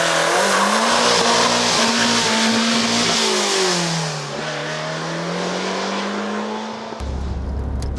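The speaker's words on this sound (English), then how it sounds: "behind me, we have a Cosworth unit tuned to 360 brake horsepower mated to a Renault transaxle" A race car with a Cosworth engine tuned to 360 bhp and a Renault transaxle roars loudly and close, its revs rising and falling through gear changes before the engine note drops away near the end.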